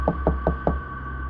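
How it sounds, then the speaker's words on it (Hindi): Four even knocks land on a door in a steady rhythm over a constant low hum and tone, close and distinct, with no voices. "दरवाजे पर दस्तक हुई।"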